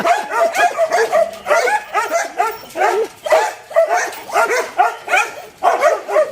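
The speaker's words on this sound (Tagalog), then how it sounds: "Ang ingay nila, oh, lalaki yung aso nila." Several dogs bark loudly and repeatedly, with yips and whimpers mixed in, a steady close-up chorus without pause.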